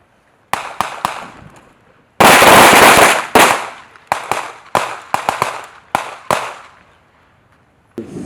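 Rapid two-handed pistol fire at an outdoor firing range: sharp, loud cracking shots in quick irregular bursts, one dense volley of overlapping reports, then scattered single and paired shots trailing off before a final shot.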